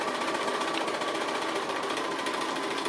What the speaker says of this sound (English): I'm just doing a free motion straight stitch, just running around close to the edge on the applique